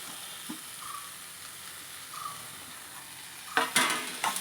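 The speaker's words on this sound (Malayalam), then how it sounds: "ഇതിലേക്ക് അരിഞ്ഞു വെച്ചേക്കുന്ന ഗോവയ്ക്ക ചേർക്കുക." Chopped ivy gourd, cooked for pickle, goes into a pan of oil, bringing a soft steady sizzle with faint scrapes and then a burst of louder crackling and clatter near the end.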